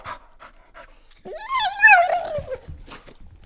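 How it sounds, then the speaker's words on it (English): A dog sound effect of a choking, strained whine rises and falls in a loud, wavering cry lasting about a second, framed by quieter panting huffs before and after. "That's a dog getting choked."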